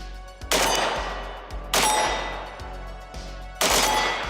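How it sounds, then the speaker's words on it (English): A rare 5.56 AK rifle firing at steel targets on a range: three loud sharp gunshots, each with a ringing metallic clang and a long decaying echo, spaced more than a second apart, no talk. "You can double tap and shoot that steel before it moves out of the way"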